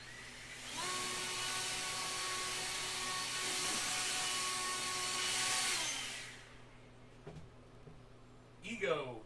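An EGO battery leaf blower runs steadily with a loud, even whine for about six seconds, then cuts off and winds down, leaving quieter room noise and a brief clatter at the end.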